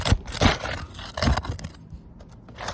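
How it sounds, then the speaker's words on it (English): Roofing paper is peeled up from a shingle repair, producing close, rough scraping and tearing rasps in a few uneven bursts that fade toward the end. "that's me just trying to peel paper up at this point"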